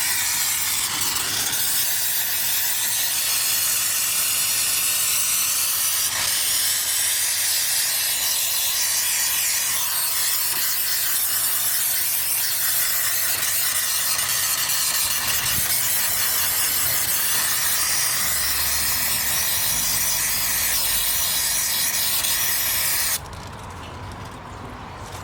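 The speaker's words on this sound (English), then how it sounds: "Hit it with some brake cleaner." Brake cleaner hisses in a long, continuous spray onto a car's transmission pan, close and steady with slight variations, then stops abruptly near the end.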